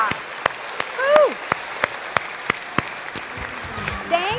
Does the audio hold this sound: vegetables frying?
no